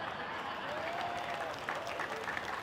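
Listeners at an outdoor religious sermon applaud, a steady, fairly soft patter of many hands clapping at a moderate distance, holding evenly throughout the short stretch.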